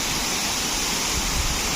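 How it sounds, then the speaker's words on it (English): White Surf Waterfalls on Little Andaman roar as a dense, steady wash of rushing water, loud and unbroken throughout with no voices. "the beautiful melody of waterfall?"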